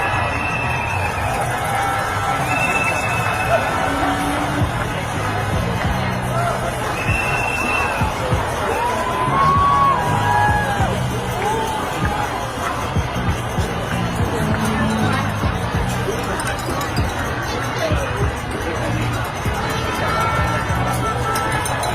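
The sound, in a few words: crowd at No Kings parade in Whittier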